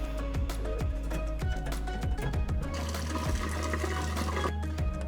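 Water rushes and gurgles as a residential water heater is flushed and drained by a plumber, a loud continuous flow with irregular knocks and sputters throughout.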